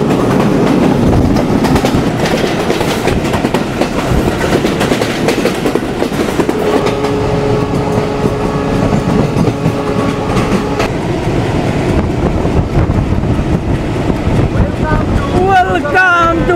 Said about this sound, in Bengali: আমরা এই মুহূর্তে পার করছি খুলনার ফুলতলা রেলওয়ে স্টেশন এবং দুর্দান্ত গতি আমাদের ট্রেন রকেট মেইলের।